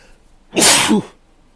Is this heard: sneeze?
yes